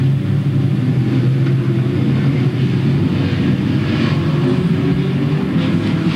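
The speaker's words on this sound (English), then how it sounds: "Doug Gregg in the number 33 now, moving in behind Eddie Van Meter in the number 23 as they race out of turn number 2" Outlaw figure-eight race cars at Louisville Motor Speedway in 1997 make a loud, continuous engine roar as several cars run together on the track, with no break in the drone.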